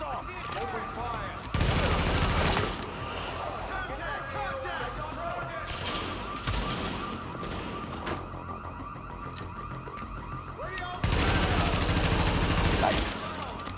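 Gunfire crackles through an assault in The Division video game, with dense bursts of rapid automatic shots that swell loud at intervals over a busy mix of game effects.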